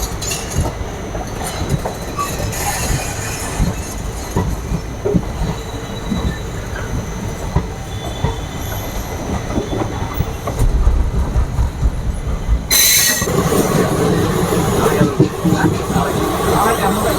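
The Amirtha Express running on rails between Madurai and Trivandrum via Palani, Pollachi and Palakkad, with continuous close rolling wheel noise and rattling that grows louder near the end, plus a sudden bright hiss or squeal.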